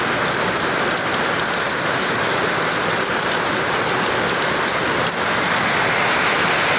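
Heavy rain pours steadily in a dense, unbroken hiss on a rainy day outdoors, loud and continuous with no voices.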